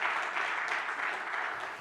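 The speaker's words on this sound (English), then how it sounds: "can you applaud him one more time?" Audience applause at an economic post-budget forum, a steady wash of clapping held at moderate distance for the whole stretch, with no voices over it.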